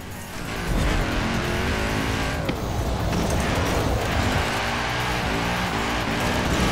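An Audi races in Forza Horizon 4, its engine roaring steadily throughout with tire squeal and skidding layered over the continuous loud drone.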